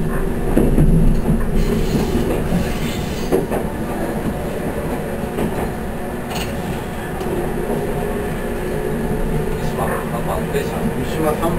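A 7000 series train runs on rails between Kawanoe and Iyo-Mishima, with steady rumble, rhythmic wheel clacks and faint squeals heard from inside the cab, while people talk over it.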